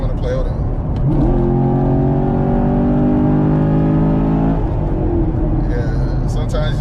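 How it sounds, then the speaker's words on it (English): A muscle car engine revs up hard, a loud, rising and sustained roar that holds for several seconds before easing off, with voices talking around it. "that's the upside of a muscle car, is that you get that sound"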